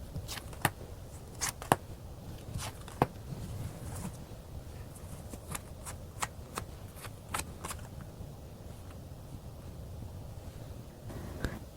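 Tarot cards are shuffled and drawn by hand, giving soft papery riffles and a scattered series of crisp snaps and flicks at close range over a quiet background.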